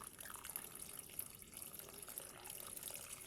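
Fish stock (water used to boil sheetol fish) being poured into a pot of boiling dal for the Manipuri dish eromba, a steady close watery pour with trickling splashes throughout.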